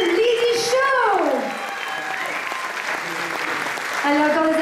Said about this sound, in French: Allez, encore des applaudissements s'il vous plaît pour la troupe du Lydie Show.